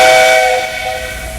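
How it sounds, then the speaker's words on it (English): A loud, sustained steam whistle from a model railway station's engine, a steady shrill hissing tone that holds and slowly fades, heard alone and close. "Did you get your whistle fixed, Mr. C?"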